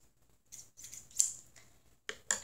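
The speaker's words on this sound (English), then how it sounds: "the things you will be needing for this is some scissors" Scissors being handled while gathering supplies for a hamster craft project, giving a few short, crisp metallic snips and clinks spaced apart, close and fairly quiet with nobody talking.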